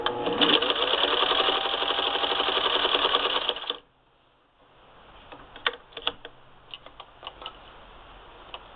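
A Singer 15-91 sewing machine fitted with an antique automatic zigzagger stitching knit fabric, running in a loud, fast, steady mechanical whir for several seconds, then stopping, followed by quieter clicks and handling taps.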